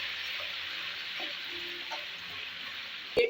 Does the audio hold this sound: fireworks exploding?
no